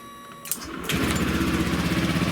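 A Honda Vision 110 scooter engine cranks and catches, then settles into a steady, fast-pulsing idle close by.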